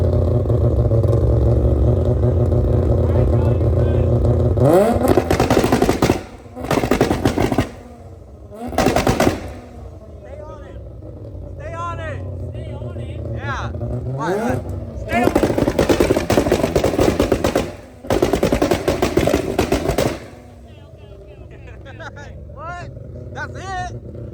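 A Mazda FD with a 20B three-rotor rotary engine idles with a choppy rasp, then rips through several loud, crackling revs and pops, close by, with people talking between bursts.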